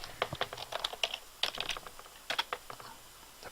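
Quick bursts of keystrokes tap on a computer keyboard while entering text in Paint.net, close and clear with short pauses between runs, no speech.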